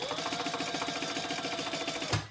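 A sewing machine stitches across the bottom of a fabric shoulder bag at a steady, fast rhythm. It stays close and moderately loud, then stops with a soft thump at the end. No one speaks.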